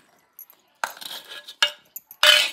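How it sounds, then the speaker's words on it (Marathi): Roasted garlic pounded in a mortar and pestle, a few sharp, irregular knocks and clinks up close, with short quiet gaps between strikes. "आता आपण खलबत्त्यामध्ये हे टेचून घेणार आहोत"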